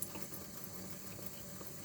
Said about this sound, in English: Bubbling pretty good there.